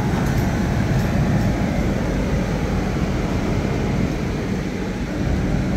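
The Ballia–New Delhi–Banaras Superfast passes near Govindpuri as a loud, continuous low rumble of rolling wheels and carriages, heard from aboard a slowly moving train.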